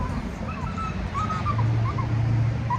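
A dog whimpers and whines in high, wavering cries over a low steady background hum, close by and fairly loud, with no talk in between.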